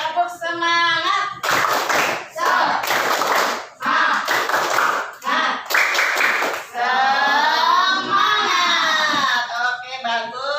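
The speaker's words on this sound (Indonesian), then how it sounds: "Tepuk semangat dulu." Schoolchildren in a primary classroom clap in a rhythmic spirit-clapping routine led by a teacher, loud bursts of hand claps alternating with children's chanting and shouting voices.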